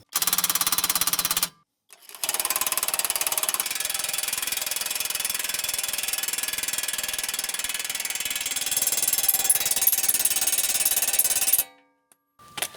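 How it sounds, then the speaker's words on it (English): A bolt being run in for the rear shock of a Ram ProMaster van, a loud continuous rattling buzz of a power tool lasting about ten seconds after a brief first burst, close up with no talk. "let's put the bolt in for the shock"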